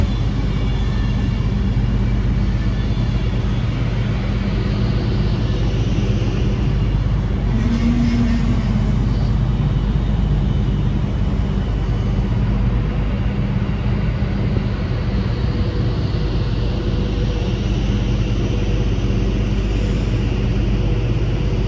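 Avanti West Coast Class 390 electric train at Stoke-on-Trent station, a steady loud rumble that holds without a break throughout, with faint passing hums above it and no talk.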